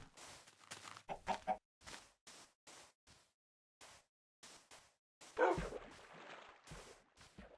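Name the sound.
chickens clucking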